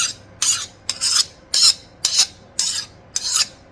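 Seven rhythmic rasping strokes of a file scraping across a hardened Damascus steel blade, evenly spaced and close, with brief quiet gaps between each pass.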